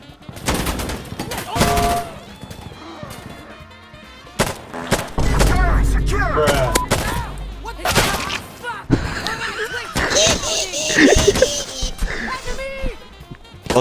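Insurgency Sandstorm firefight with bursts of rapid automatic gunfire and single shots, some near and punchy, others more distant, mixed in with people talking over the action.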